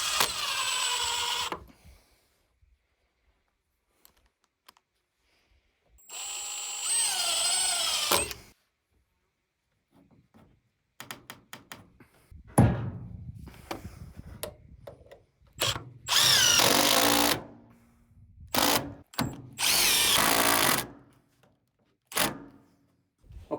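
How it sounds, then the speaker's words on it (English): A power drill drives screws into wood while building an outdoor bar, in several bursts of high whirring separated by quiet pauses and scattered clicks and knocks. "So let's put a couple screws right there, level this up as much as we can"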